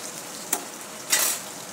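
Mustard seeds, cumin, green chilli and curry leaves sizzle in hot oil, with two short bursts of stirring scrapes, one brief and one longer.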